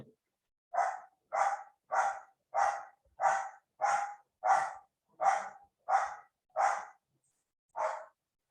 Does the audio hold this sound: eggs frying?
no